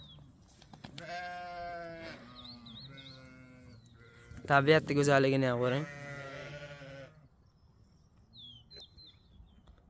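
Sheep bleat on a farm during wool-shearing season, several loud, close calls overlapping with one another and mixed with people talking nearby.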